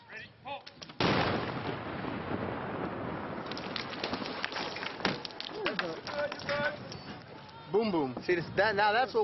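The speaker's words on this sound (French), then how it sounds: "des sapeurs de l'US Army font sauter à la dynamite des stocks d'armes et de munitions" Dynamite blast set off by US Army sappers destroying weapons and ammunition stocks, including RPGs, outside a capital city: one loud close detonation followed by a rumbling, crackling aftermath, with people talking and voices over the tail.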